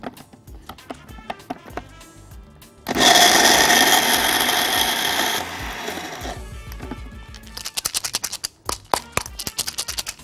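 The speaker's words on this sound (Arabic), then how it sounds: "دي مطحنة التوابل العادية" An ordinary electric spice grinder whirs loudly for about two and a half seconds in a home kitchen, between quieter clattering and handling noises.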